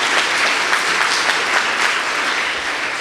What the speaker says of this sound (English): Let's have a round of applause for the bill that we just passed through Congress.